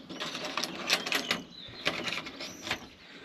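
A fastener on a solar panel mount is loosened, giving several close, brief metallic clicks and scraping rattles in short bursts, with no talking.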